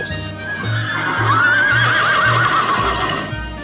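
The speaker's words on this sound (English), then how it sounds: "Horse." A horse whinnies in a quavering, drawn-out neigh, with low snorting and rumbling sounds underneath.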